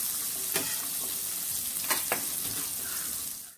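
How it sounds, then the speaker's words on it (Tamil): Small onions and garlic sauté in a pan with a continuous soft sizzle, broken by a few brief scraping stirs of a spoon, close and steady throughout. "பூண்டு வெங்காயம் ரெண்டு வதங்கட்டுங்க"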